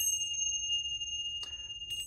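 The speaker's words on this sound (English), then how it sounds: "here's my traditional chimes" Traditional chimes ring with sustained, shimmering tones, struck again twice near the end for brighter clangs, in a quiet room with no talking.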